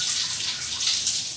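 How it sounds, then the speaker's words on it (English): Water running from a faucet or shower while hair dye product is rinsed out of hair, a close, steady splashing hiss with slight fluctuations and no voices. "I let the water get the product out of my hair first and then proceeded to guide it with my hand"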